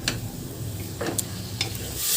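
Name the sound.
stir-frying vegetables in a pan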